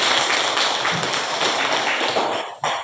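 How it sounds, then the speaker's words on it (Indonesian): A classroom group of students claps for a discussion group during a religious education lesson, a dense, loud burst of many hands that fades near the end with a sharp final clap. "tepuk tangan untuk kelompok"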